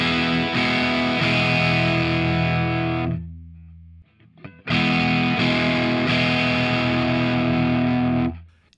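An electric guitar played through a Fender Tone Master Pro with a 4x12 British Blackback cab rings out in two heavily distorted sustained chords, each held for several seconds, separated by a short decaying gap, alone without talk.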